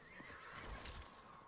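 A horse mount in the video game Diablo 4 gives a faint, drawn-out neigh over steady background noise, with a few soft hoof-like thumps beneath.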